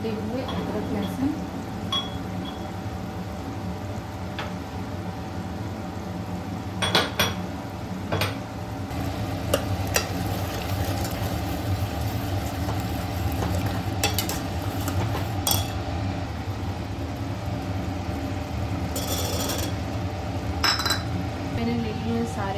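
Ginger, garlic, sugar and spices being stirred in a cooking pan, with a steady background hum and scattered clinks of a spoon against metal, under occasional talk.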